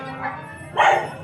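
A dog behind a gate gives two short barks, a softer yip followed by a louder, closer bark, in an outdoor neighbourhood setting.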